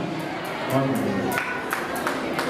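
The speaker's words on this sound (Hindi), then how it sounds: "जोरदार तालियां का अभिनंदन करें।" Applause at a gathering in a Digambar Jain temple in Mandla, scattered claps rising into a fuller burst over crowd murmur, with a voice speaking over it.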